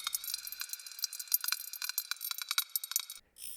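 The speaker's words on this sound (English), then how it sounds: "A limiter is also important on a sound like this with so many random clicks and pops." Synthesized crash effect built from scratch, a dense spray of bright random clicks and pops over high metallic ringing, steady for about three seconds before cutting off, with no voices.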